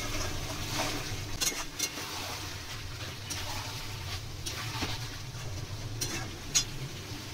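Chicken pieces frying in oil in a pan for a Bengali-style chicken kosha, giving a steady, close sizzle with occasional stirring scrapes and clinks and no talking.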